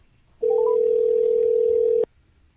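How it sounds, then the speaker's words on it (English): A single steady electronic ringback tone on an outgoing phone call sounds loudly for about a second and a half, then cuts off abruptly, with quiet room noise around it. "We're calling you, man. Pick up the phone, bro."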